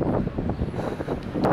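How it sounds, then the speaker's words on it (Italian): Strong wind gusting around a city street in Skopje, a loud, steady rush with low rumbling buffets that swell and ease without pause. "si inizia ad arrivare il vento forte"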